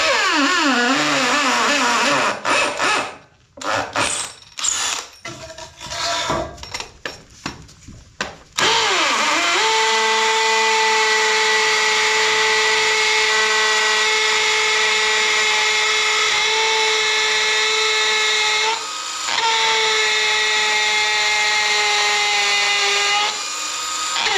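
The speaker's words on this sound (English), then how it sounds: "so it won't move and I can drill the other hole." A power drill revs in choppy bursts, then runs in a long steady whine as it bores into a 2x4 concrete form, with a brief dip before resuming, loud and close.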